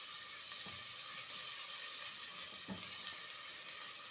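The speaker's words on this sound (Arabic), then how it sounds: "هنفضل نصفر في البصله" Chopped onion with a little garlic sizzles steadily in a pot while it fries toward golden, a soft, even crackling hiss close by with no talking.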